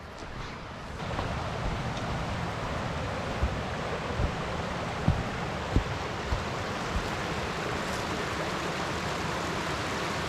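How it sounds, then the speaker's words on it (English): Otter Falls, a small waterfall in Yukon, gives a steady broad rush of falling water throughout, with a few faint knocks and bumps near the recorder and no talking. "Pretty small waterfall looks like, but whatever, we're gonna check it out"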